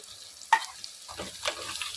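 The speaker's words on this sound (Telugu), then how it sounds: "కలుపుకొని 1 నిమిషం అట్లా వేగనివ్వండి" Crab curry with fresh coriander stirs and fries in a pan, a quiet hiss of oil broken by a sharp spoon clack on the pan and then soft scraping stirs.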